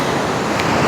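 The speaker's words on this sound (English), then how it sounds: "the ocean is clear and blue" Ocean surf rolls onto the beach at Noosa, a loud, steady wash of breaking waves with some wind rumble against the microphone and no voices.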